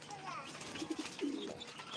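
Pigeons coo softly on a rooftop, with a couple of low, rolling calls near the middle over quiet background noise.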